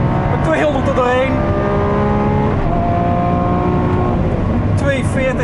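A 2018 Lamborghini Aventador SVJ runs flat out through a fast corner on a track, its engine holding a loud, steady high-revving drone with shifting pitch and brief upward sweeps, heard from close by.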